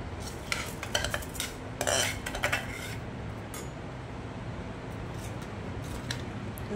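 Washed rice with green peas and potatoes is stirred and sautéed in a pot, with bursts of metal spoon scraping and clinking early on before settling into a low, steady background hum.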